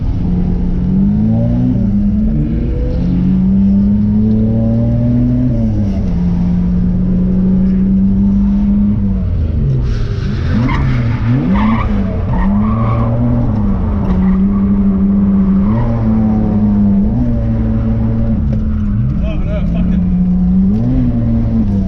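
Ford AU Falcon drift car on a track, its engine droning steadily and loud throughout, with pitch rising and falling as it revs and drifts, and a brief swell in higher-frequency noise midway.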